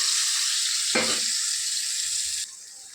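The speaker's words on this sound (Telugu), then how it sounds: "ఇలా మునక్కాయలు కొంచెం బాగా వేయించుకోవాలి ఆయిల్లో ఫ్రెండ్స్." Drumstick pieces frying in oil, a loud continuous hiss and sizzle close by with a brief low stir or knock partway through, then a slightly quieter sizzle.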